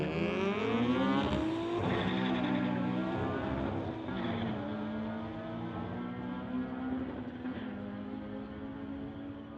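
A Honda and a 2000 Lexus launch in a street-legal drag race, engines revving hard with rising pitch through gear changes, loud and close, fading slightly as they pull away, no talk.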